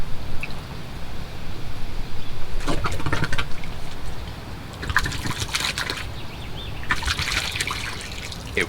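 Water trickling and splashing into an EZ-Flo fertilizer tank, a steady liquid rush with a few brighter gushing bursts, close and alone without talk.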